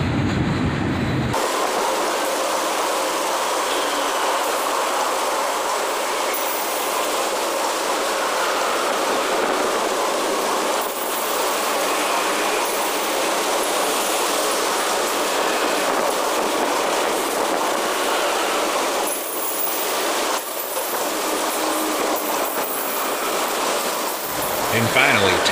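An FRA inspection train hauled by an SD70MAC locomotive rolls steadily past up close, loud continuous wheel rumble and clickety-clack with brief squeals, sustained for the whole span.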